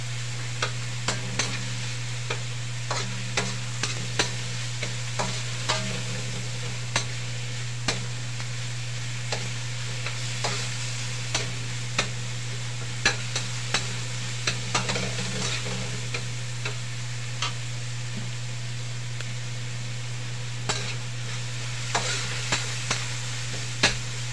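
Pakbet Ilocano vegetables are stirred in a pan, with regular spatula clicks and scrapes over a low sizzle and a steady background hum running throughout. No voices are heard.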